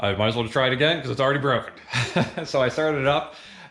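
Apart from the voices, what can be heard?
None of the usual background noises is heard.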